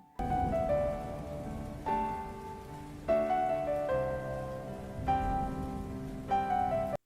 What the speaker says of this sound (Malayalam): മഴ ഒന്നുകൂടി ശക്തി പ്രാപിച്ചു.